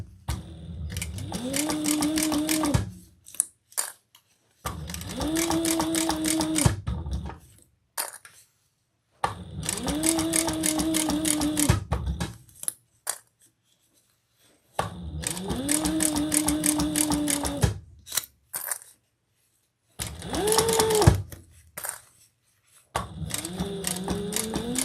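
A home sewing machine stitches a fabric car trash can in five steady bursts of whirring needle action, each a few seconds long, separated by short quiet pauses, loud and close with no talking.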